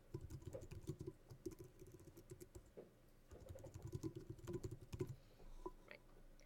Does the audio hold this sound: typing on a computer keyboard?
yes